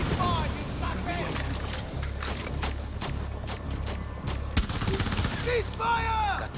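Rapid gunfire rattles through a Rainbow Six Extraction firefight, with sharp repeated shots over low rumble while a player shouts.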